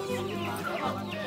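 Sonali and desi chickens cluck up close at a weekly village market in Bangladesh, a short burst of fowl calls with no talking.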